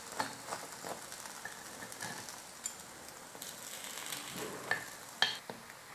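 Kuzhi paniyaram, just flipped, sizzles quietly in a pan as a steady soft frying hiss continues, with a few light clicks and taps throughout.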